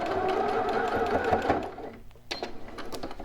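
A home sewing machine back stitches a bodice seam. It runs in a fast, steady mechanical whir, stops briefly, then restarts with a few short bursts and clicks, heard up close with no speech.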